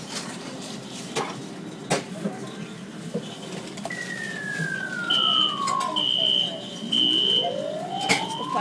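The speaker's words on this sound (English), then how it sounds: "It's the fire alarm." An indoor fire alarm sounds in an arcade near claw machines, giving steady high electronic tones and a sweeping siren-like wail over busy background noise, with brief clanks.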